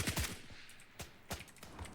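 Gunfire in the video game Blackhawk Rescue Mission 5, a quick rapid burst of shots and then a few separate sharp cracks spread across a couple of seconds, with faint keyboard clicks underneath.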